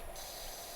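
Continuous hiss of a pressure washer spraying in PowerWash Simulator, a steady broadband jet with no breaks, fairly quiet.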